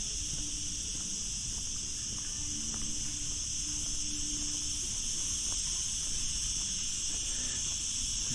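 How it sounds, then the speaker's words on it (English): Cicadas sing in the trees of Hastings Gardens in Valletta, Malta, a continuous high, shimmering drone with no pauses, heard from a moderate distance over a faint outdoor background. "The cicadas in the trees here sound like in the bush in Australia in summertime"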